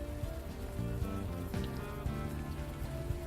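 Steady rain falls in the video game Unavowed, a dense even patter under a tonal game music bed, continuous throughout with no voices.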